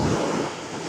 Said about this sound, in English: You see the waves are getting a little bit bigger now